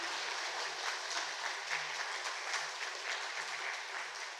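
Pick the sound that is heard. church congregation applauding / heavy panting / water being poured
church congregation applauding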